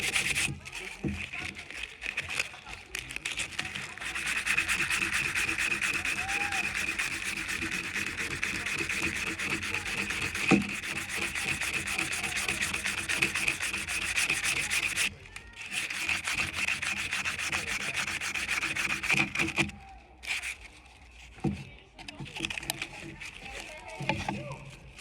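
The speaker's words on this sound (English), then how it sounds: "I'm actually going to go ahead and just sand the whole thing so that it's even." Steady abrasive rubbing of sandpaper over a drinking horn being evened out, continuous and close with a few brief pauses and a short break near the end.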